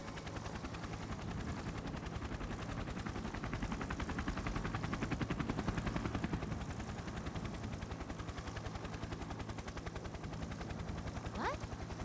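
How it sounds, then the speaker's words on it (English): A helicopter's rotor thumps in a rapid, continuous chop throughout in a Persona 4 Arena Ultimax game scene, steady and moderately loud, with a brief sweeping tone near the end. "What's this helicopter doing here?"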